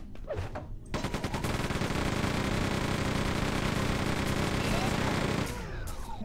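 A rapid-firing weapon in Quake II Remastered roars in a sustained, dense stream of shots for several seconds, loud and continuous, starting abruptly after a brief lull and cutting off near the end.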